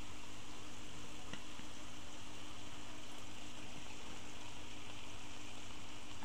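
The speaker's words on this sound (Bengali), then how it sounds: "সবগুলো চিপস আমি এভাবে দিয়ে সবগুলো ভেজে নিব" Cabbage chips frying in hot oil, a steady, even sizzle with fine crackling that holds at moderate level throughout, with no talking.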